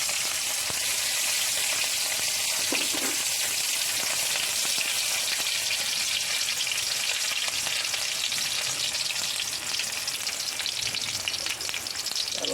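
Green chilies frying in hot oil for a chicken cutlet masala, a steady, loud, crackling sizzle that runs without a break from start to end, with no talking.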